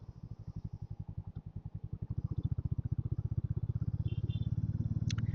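A 2026 Harley-Davidson X440T motorcycle is ridden, its engine thumping in a steady, rapid low pulse that grows louder and holds through the run, with faint wind and road noise over it.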